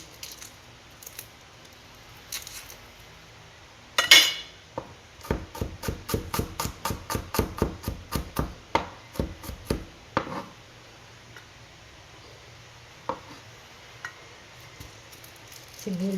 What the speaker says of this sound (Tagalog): Crush natin ang garlic. At hiwain natin.